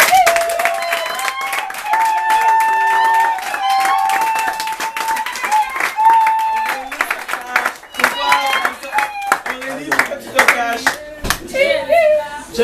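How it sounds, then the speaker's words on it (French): Church congregation applauding and cheering to welcome newcomers: dense, continuous clapping from a crowd throughout, with voices and excited shouts mixed in. "On peut les acclamer un peu."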